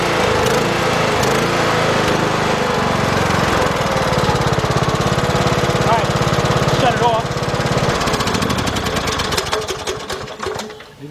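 A Kohler-engined Troy-Bilt Bronco lawn tractor runs steadily up close with a loud, busy mechanical drone that fades toward the end.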